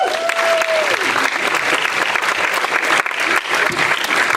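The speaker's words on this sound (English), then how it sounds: "Applause also for Marius." Audience applause at an international youth work conference in Latvia, a steady broadband clapping from a seated crowd that fills the whole stretch at full strength, with a brief tonal whistle near the start.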